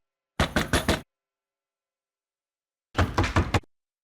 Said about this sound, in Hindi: कोई खटखटा रहा है।